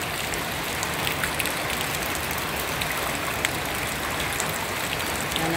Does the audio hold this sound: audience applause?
no